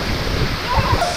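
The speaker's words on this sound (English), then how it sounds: "Take a look at this amazing waterfall." A waterfall in Kalimantan, Indonesia, rushing in a steady broadband roar close by, with a few louder splashy surges in the last half second.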